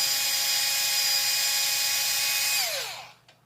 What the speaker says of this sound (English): You just unscrew those, and the motor should come right off